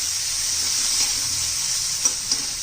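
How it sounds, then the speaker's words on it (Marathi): Chopped onion sautéed and stirred in a frying pan for a spicy bitter gourd dish, a steady close sizzle with a couple of soft scraping clicks from the spoon near the end. "तर कांदा परतून घ्यायचा आपल्याला"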